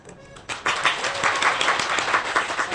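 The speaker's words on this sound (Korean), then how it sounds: "큰 박수 부탁드립니다" Audience applause at a civic group's founding ceremony, starting after a quiet moment and building into steady, close clapping with a murmur of voices.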